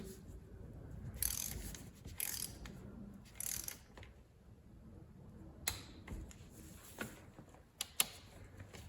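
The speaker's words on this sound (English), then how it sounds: "I'm gonna tighten these up in a crisscross pattern to 14 foot-pounds" A ratchet wrench clicks in short bursts as VW swing axle bolts are tightened in a crisscross pattern to 14 foot-pounds, with a few sharp metallic taps toward the end over a low background rumble.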